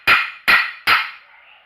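Three sharp, ringing metallic strikes close up, evenly spaced about 0.4 seconds apart, as a hardy tool made from train rail track is hammered into its hardy hole. The last ring decays slowly, with no talking.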